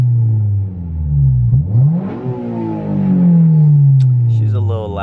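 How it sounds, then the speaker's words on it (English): A 2008 Honda S2000 engine revving with a loud aftermarket exhaust, heard from inside the car: a deep rising roar that drops and swells again, close and loud. "Here, let's rev it first."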